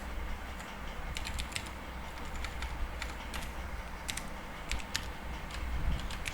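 Typing on a computer keyboard while building an HTML table: scattered bursts of light clicking keystrokes in uneven rhythm over a steady background hum, close but soft, with no talking.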